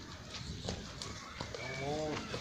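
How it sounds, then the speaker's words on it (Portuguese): Racehorses gathered close by, with a brief neigh-like call and scattered hoof-like knocks over steady background noise, while people talk throughout. "É um monte de cavalo."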